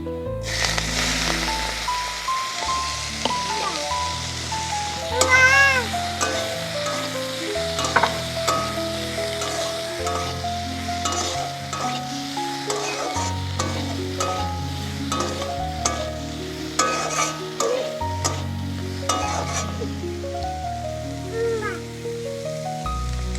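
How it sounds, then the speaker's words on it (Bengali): Prawns sizzle in hot oil tinted with turmeric, a continuous frying hiss running under prominent background music with piano-like notes. "এবার এর ভিতরে আমি এখন চিংড়িটা দিয়ে দিচ্ছি"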